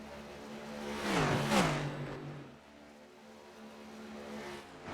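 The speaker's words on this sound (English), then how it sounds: "pace car we're hearing is on the backstretch" A pace car's engine roars past in the distance on the backstretch of Monza race track, swelling and fading as it drives by, followed by a softer continuing drone.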